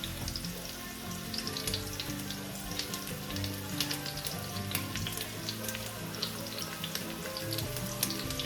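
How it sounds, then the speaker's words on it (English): Onions sautéing in a hot Dutch oven, a dense, continuous crackling sizzle with popping spatters, steady and close throughout. "You put the onions in and we're gonna saute that up"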